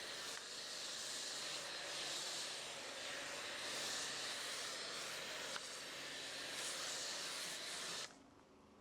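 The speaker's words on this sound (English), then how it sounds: "Just use it like a normal pressure washer attachment." A pressure washer rinses car wheels with a loud, steady hissing spray that shifts slightly as the angle changes, then cuts off sharply near the end.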